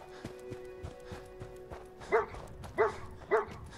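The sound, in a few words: dog barking in video game Fallout 4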